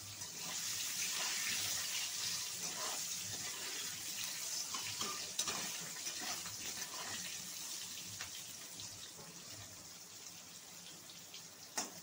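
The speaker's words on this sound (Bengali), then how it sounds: "আমি এবার কড়াইয়ের মধ্যে দিয়ে দেবো আলু। আলুটাকে ভেজে নেবো ভালো করে।" Potatoes frying in a wok give a soft, continuous hiss and crackle, fairly faint and steady, broken by a few small clicks.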